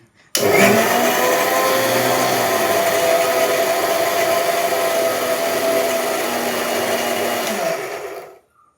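An electric mixer grinder blends banana stem juice, starting abruptly with a loud, steady high-pitched whir that holds for about eight seconds at close range before spinning down, with no talk over it.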